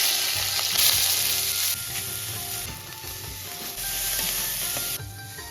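Village-style poha sizzling and being stirred in a pan over the fire, a steady close frying hiss with scraping stir strokes, no talking.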